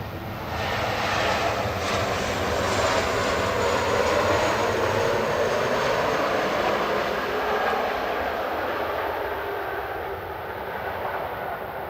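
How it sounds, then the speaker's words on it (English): A Ryanair Boeing 737 Max 8 landing at Manchester from Tenerife South roars loudly overhead, its jet noise building then slowly easing away as it passes, with no voices. "You chose a Ryanair. Max 8, flight 4331 from Tenerife South,"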